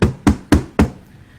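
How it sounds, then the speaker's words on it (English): Four firm knocks on a ship captain's cabin door, evenly spaced about a quarter second apart, close and clear with no talking. "Rufus Leroy Williams III knocked on the captain's door."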